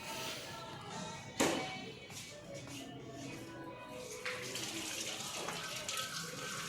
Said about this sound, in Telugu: అక్కడే ట్యాప్స్, వాటర్ ట్యాప్స్ అవి పెట్టారనమాట